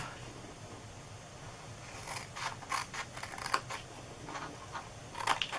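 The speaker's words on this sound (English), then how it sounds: "we are going to cut these little ends right here off" Scissors snip the small ends off a paper Christmas ornament treat box, a series of short crisp cuts and paper rustles, close and fairly quiet, with no talk.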